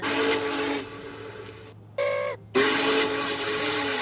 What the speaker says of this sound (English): 4014's whistle